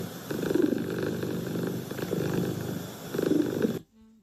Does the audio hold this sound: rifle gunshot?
no